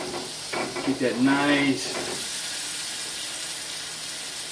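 Butter sizzles in a hot pan alongside a New York strip steak, a steady soft hiss running throughout, while a person speaks briefly near the start.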